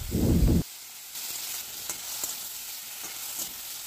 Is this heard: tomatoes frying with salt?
yes